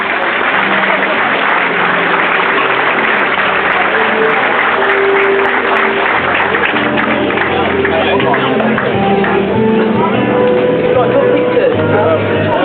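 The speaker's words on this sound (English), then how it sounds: "let's give them a big round of applause" Audience applause and cheering at the 2007 Singapore Airlines A380 inaugural flight ceremony at Changi, a dense continuous wash of clapping and crowd noise filling the room throughout.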